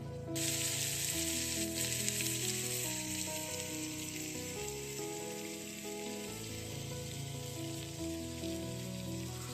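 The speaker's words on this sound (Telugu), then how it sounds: "సో ఇప్పుడు చూస్తేనే మనకి ఇవి ఫ్రై అవుతున్నాయి" Sprouted horse gram fries in a pan for upma, giving a loud, continuous sizzle that stays steady throughout, with soft tonal sounds beneath.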